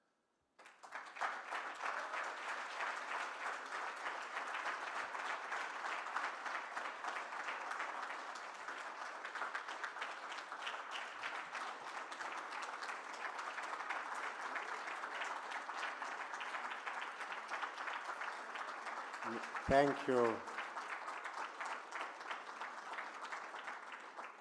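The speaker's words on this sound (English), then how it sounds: "Another round of applause" Long, steady applause from a large audience after a speech at an interfaith forum, a continuous broad clatter of many hands lasting over twenty seconds, with a short spoken thanks breaking in near the end.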